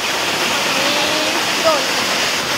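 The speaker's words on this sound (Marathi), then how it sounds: "काय धबधबा आहे" Steady roaring rush of a waterfall in Sanjay Gandhi National Park, Mumbai, fills the clip, with a faint voice briefly heard partway through.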